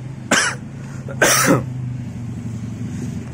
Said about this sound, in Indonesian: Maaf ya, lagi batuk.